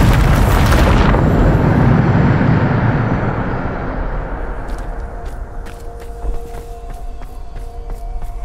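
Bombarda explosion spell going off in Hogwarts Legacy: a loud, close blast with a sharp, bright onset that rolls into a long rumbling decay, with faint debris and magical crackles trailing off afterwards.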